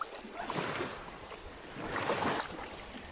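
A kayak on an overnight backcountry trip drifts in to moor near gorse. Water swashes and laps against the hull in two soft surges with a breezy rush, close by and without talk.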